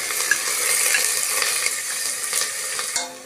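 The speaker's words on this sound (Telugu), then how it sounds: "ఆనియన్స్ ఇలా ఫ్రై చేసుకోవాలి." Chopped onions sizzling in two tablespoons of hot oil with bay leaves, marathi moggu and green chillies, a bright continuous crackle with faint stirring scrapes, close and loud for a few seconds.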